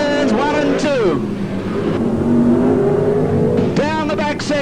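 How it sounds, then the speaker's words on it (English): Speedway race car engines at Parramatta City Raceway scream loudly through the turns, rising and falling in pitch as the cars pass, under a commentator's continuous talk. "George Tatnall, the race leader, screaming away in the number 8 car up through turns 1 and 2."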